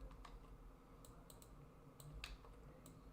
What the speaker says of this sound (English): use your keyboard and do Control C, and then use Control V wherever you want to place the new keyframes